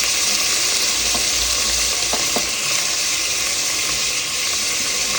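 Onions, green chillies, peas, kidney beans, capsicum, tomato, carrot and potato fry together in a pan until golden, giving a loud, steady sizzle with occasional stirring scrapes and no talk.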